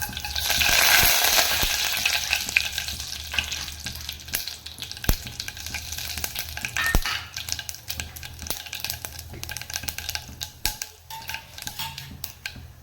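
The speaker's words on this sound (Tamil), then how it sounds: "இப்போ எண்ணெய் சூடாயிருச்சு நம்ம கடுகு சேர்த்துக்கலாம்" Mustard seeds dropped into hot oil crackle and pop in a burst of loud sizzling, which settles into scattered sharp pops and light utensil clinks over a softer fry.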